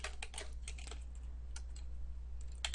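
Typing by hand on a computer keyboard, a quiet, uneven patter of light key clicks in bursts and pauses over a steady low hum.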